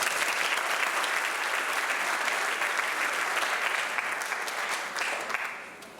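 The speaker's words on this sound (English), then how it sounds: "Will you please give these ladies a round of applause?" A dense round of applause from a crowd at a school athletic awards night, steady and full for several seconds before tapering off at the end.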